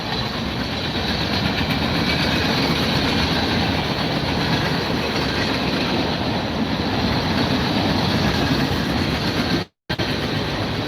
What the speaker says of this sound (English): that horn was loud